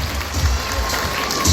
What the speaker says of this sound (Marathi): पुन्हा एकदा त्यांना त्यासाठी टाळ्या वाजवा.